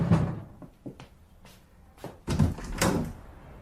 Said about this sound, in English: I went to the front door and opened it